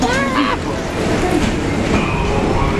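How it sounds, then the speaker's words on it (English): The Tomorrowland Transit Authority PeopleMover at night, a slow electric ride vehicle, passes with a steady rolling rumble and light clicking close by, its hum filling the whole clip under faint background voices. "Oh yeah, here comes a full train."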